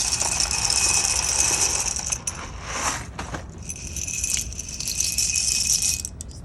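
Medium-sized dry pasta shells from a one-pound box pour and rattle close by, a dense dry clatter that eases briefly midway before resuming, with no talking.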